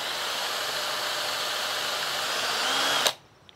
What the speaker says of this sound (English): We're going to see if we can get this to go in by screwing in first, going backwards as if we're screwing it out